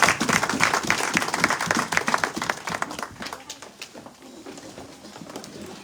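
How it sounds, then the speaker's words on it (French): A church congregation claps together after a sermon, a dense burst of hand claps that gradually thins and fades toward the end, with no talking over it. "applaudis pour cette parole"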